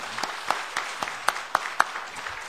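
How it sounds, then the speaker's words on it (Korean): Sparse, scattered hand claps from a church congregation welcoming new members, individual claps standing out irregularly rather than forming a dense ovation, moderately near and fairly quiet. "우리 박수로 환영해 드립시다."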